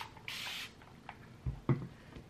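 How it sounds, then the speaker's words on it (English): A spray bottle mists water onto freshly washed type 4 hair in one short, hissing burst, followed by faint handling noises. "just re-wet with the spray bottle"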